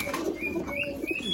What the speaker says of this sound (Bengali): এখানে সব কবুতর ছাড়া আছে